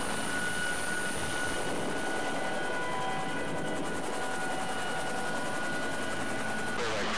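Search and rescue helicopter hovering, a steady loud rotor and turbine roar with a high whine and fast rhythmic blade chop, continuous throughout.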